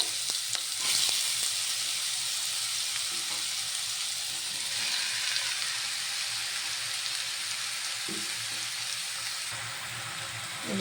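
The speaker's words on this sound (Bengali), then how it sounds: "কালো জিরে ফোড়ন দিয়ে দেব। এবার লাউটা দিয়ে দেব।" Bottle gourd pieces frying in oil in a wok after a tempering of nigella seeds, a loud continuous sizzle with stirring scrapes and clinks, close by.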